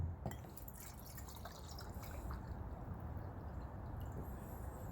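Water trickles and drips into a 2-cup mug-style camping cook pot at an outdoor cook kit setup, a faint, steady liquid pour with light splashing throughout.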